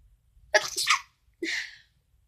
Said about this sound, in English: So I'm gonna sneeze. I know I'm gonna sneeze.